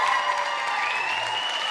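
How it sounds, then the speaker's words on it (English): Applause from the crowd at a school talent show, Clones Got Talent at Gaelscoil Eois, a continuous wash of clapping with a faint tonal hum running through it. "Give them another wee round of applause"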